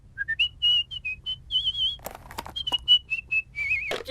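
A cartoon baby, Maggie Simpson, whistles a clear high melody of short and held notes, some with a trill. Near the end, sharp clicks and a brief burst of noise break in.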